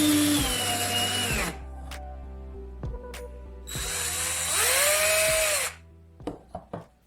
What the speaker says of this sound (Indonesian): Nyalakan bor dengan kecepatan rendah dan isolasi akan mudah terpisah dari kawat.